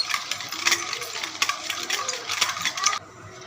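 Dalgona coffee mixture whisked in a tilted bowl, a loud, close, continuous scraping and clattering whirr with rhythmic strokes that stops abruptly near the end.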